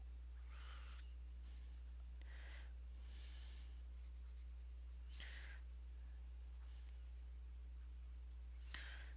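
Colored pencil scratching over blue on paper, repeated short strokes in separate bursts, faint and close over a steady low hum.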